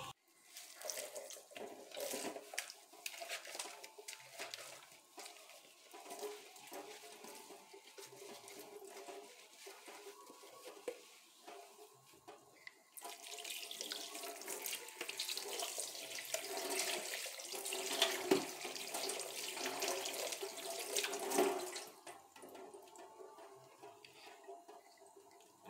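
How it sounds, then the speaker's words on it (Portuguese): Tap water runs steadily into a sink while a stand mixer bowl from a Mondial B29 NP 500W mixer is rinsed, the splashing swelling louder midway and settling again, close by with no talking. "vou lavar aqui a tigelinha"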